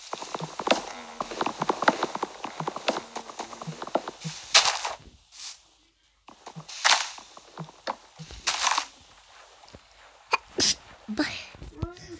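Horse hooves clip-clop in the Minecraft video game as quick, close, rhythmic clatters, broken by sharp bursts and short gaps, with voices mixed in.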